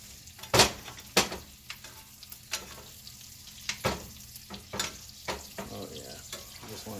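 A ribeye steak fries in butter in a cast iron pan with a quiet, soft sizzle broken by a few sharp clinks and taps from utensils.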